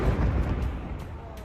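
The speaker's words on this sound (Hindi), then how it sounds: "उस वक्त भी बेरूत में धमाके की आवाज गूंज रही थी।" Blasts in Beirut during Israeli strikes on Hezbollah targets in Lebanon, heard as a continuous heavy low-frequency rumble with rolling booms throughout, loud and dense with no clear pauses.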